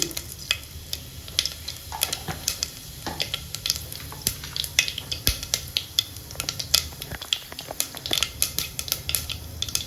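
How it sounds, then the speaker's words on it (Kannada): Mustard seeds and cumin crackle and sizzle in hot oil while a spoon clinks and scrapes against the pan, a busy run of sharp pops and stirring knocks close by. "2 ಸ್ಪೂನು ಎಣ್ಣೆ ಬಿಸಿಯಾಗಿದೆ. ಈ ಸಾಸಿವೆ ಹಾಕ್ತಾಯಿದ್ದೀನಿ ಸ್ವಲ್ಪ. ಈಗ ಜೀರಿಗೆ ಹಾಕ್ತಾಯಿದ್ದೀನಿ"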